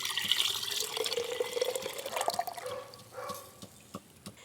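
Warm water poured into flour for naan puri dough, a steady close trickle and splash that thins out into a few drips toward the end, with no talk.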